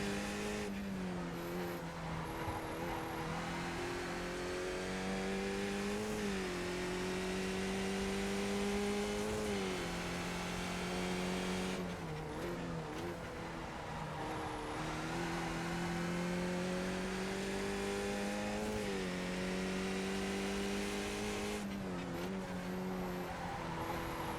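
Race car engine in a racing video game at Long Beach, a continuous loud drone with repeated rising pitch sweeps as the car accelerates and shifts through gears, with brief dips when lifting off.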